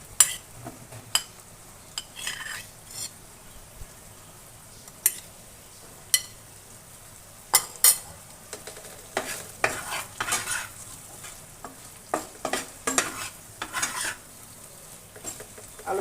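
A spoon stirs fried potatoes into a vegetarian soybean curry in a pan, giving irregular clinking scrapes against the metal over a faint sizzle, with no talking.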